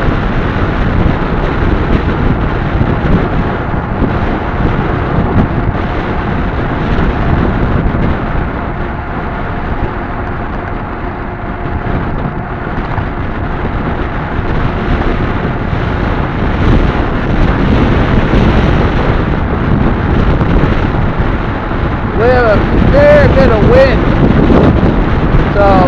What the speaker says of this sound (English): This is a warm wind.